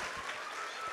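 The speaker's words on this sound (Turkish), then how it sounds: "bütün emeği geçen arkadaşlarıma bir teşekkür alkışı rica ediyorum" Audience applauding in thanks at a special-needs children's school music concert in Tokat: a steady, even wash of clapping that fills the brief moment without pause.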